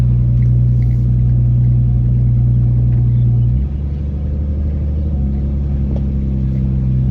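A Ford Barra turbo engine in a Nissan Patrol drives under power, producing a loud, close, steady low rumble whose pitch shifts partway through as the vehicle moves.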